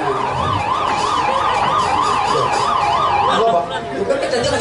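An ambulance siren wails continuously nearby, its rising and falling tone loud and steady, with faint road noise underneath.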